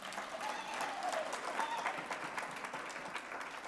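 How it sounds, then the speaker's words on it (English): Steady applause from a crowd at ACSA's annual financial results presentation fills the clip, a sustained wash of clapping at moderate volume. "Another round of applause, please."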